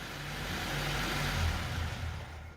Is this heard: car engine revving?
yes